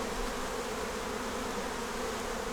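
Honeybees on a hive fitted with a super of wax foundation frames give off a steady, even buzz, close and continuous with no other sounds.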